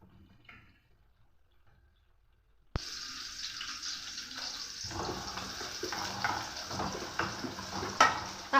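Garlic pieces hit hot oil in a pot and start a sudden hiss that runs on as a steady sizzle with small crackles. Before that there is near silence.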